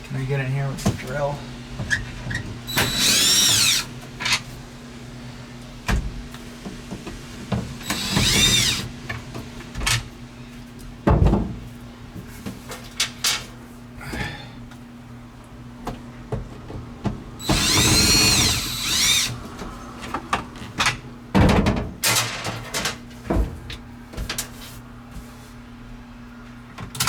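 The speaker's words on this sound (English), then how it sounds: "Can I get in here with the drill?" A power drill works on a bullnose Ford F150 during a clutch pedal install, running in several loud bursts of a few seconds each, separated by quieter gaps with clanks and a person talking.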